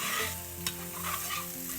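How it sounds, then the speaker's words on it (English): Tomato paste browning in a pot for coq au vin, a steady close sizzle with the scrape of a spoon stirring through it, a single sharper knock midway, music playing underneath. "add about a tablespoon of tomato paste. And you want to brown that."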